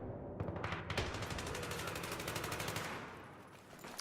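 An A91 rifle fires a sustained automatic burst in a multiplayer shooter game, a dense, loud rapid-fire rattle that runs for several seconds before trailing off.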